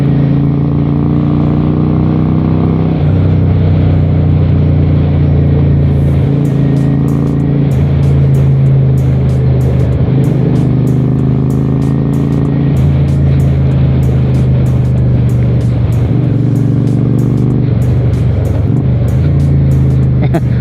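A 1992 Honda Shadow 400 cruiser motorcycle drones loudly and steadily while being ridden. Its engine pitch drops and climbs again at several gear changes, over constant wind rush.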